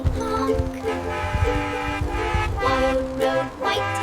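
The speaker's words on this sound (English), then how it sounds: "White road, white taxi, honk." A taxi horn toots a few times in quick bursts, close by, over a steady background hum.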